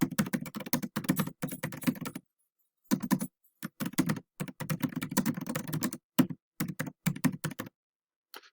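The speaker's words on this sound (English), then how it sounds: "Let me type that in here for you" Rapid bursts of computer keyboard typing, clicking keys in uneven runs separated by short pauses, close and clear with no talking.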